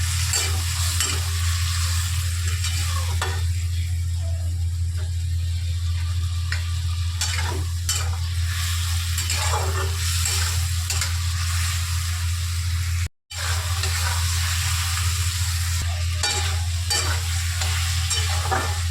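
Ginger and chili paste fries in a pan with a continuous close sizzle, punctuated by rhythmic stirring scrapes and a low steady hum underneath, briefly cutting out once.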